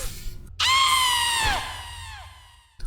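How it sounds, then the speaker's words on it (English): A woman's scream from the video game Metal Gear Solid 4, a sharp shrill cry that rises suddenly, holds, then trails off in a falling wail. "Love that scream."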